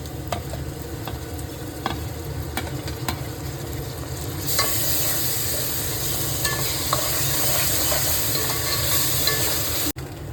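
Onions with ginger and garlic paste frying in oil and ghee for Kashmiri chicken kanti, a steady broadband sizzle under repeated scrapes of a stirring spoon, growing louder and brighter midway through, with no talking.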